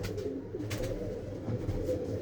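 Pigeons at a breeder's loft coo nearby in soft, low, overlapping throaty calls that roll on steadily for the whole stretch, with no one speaking.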